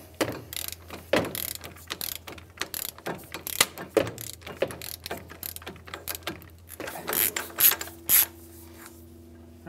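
A ratchet turns the 35 mm front axle nut on a 2007-2015 Mazda CX-9 during a front brake job, giving close, sharp, repeated clicking strokes in uneven bursts, fairly quiet, with no talking.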